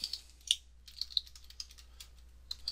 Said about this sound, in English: I'm going to type in trigger volume.